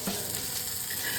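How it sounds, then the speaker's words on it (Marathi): Mandeli fish sizzle as they fry crisp in a pan, a steady close hiss that fills the brief moment without pause or voices. "मच्छी मस्त फ्राय झालेली आहे"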